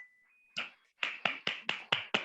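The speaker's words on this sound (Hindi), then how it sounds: "एक जोरदार तालियां" Applause during an online Zoom training session: a short electronic tone, then a sharp clap followed by a run of five crisp, evenly spaced hand claps, close and fairly quiet.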